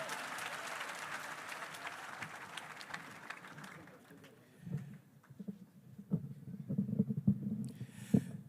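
A university audience at a public lecture applauds the student president, clapping loudly at first and then thinning into scattered claps and low rumbling crowd noise, with a voice at the close.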